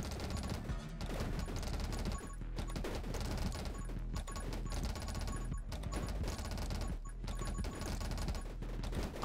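Rapid automatic projectile fire from the rogue-like shooter 10 Minutes Till Dawn, a steady stream of quick shots under driving game music, moderately loud and continuous throughout.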